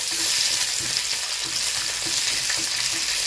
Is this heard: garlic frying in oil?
yes